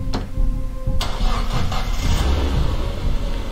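A car engine in a video game cranks and catches, then settles into a rough idle with some revving, heard up close.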